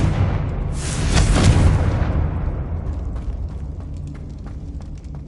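Confringo blasting curse exploding in Hogwarts Legacy: a loud, broad boom bursting about a second in, then rumbling down into a long fading tail with scattered small crackles.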